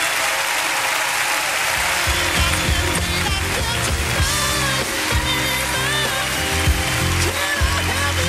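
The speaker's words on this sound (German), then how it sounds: "vielleicht bitte mit einem tosenden Applaus begleitet von Ihnen allen auf die Bühne bitten" Audience applause at Germany's 2004 national final for the Eurovision Song Contest, a loud sustained roar of clapping from a large crowd over rhythmic stage music with pulsing bass.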